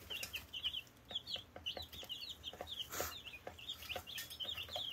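Day-old Buff Orpington chicks eating in a brooder give continuous high peeping and chirping over soft pecking taps, close and fairly quiet.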